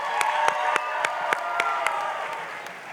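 An audience at a Durfee high school winter sports awards night applauds and cheers for Evan Massard. Dense, steady clapping fills the room, with sharp claps and scattered whoops on top.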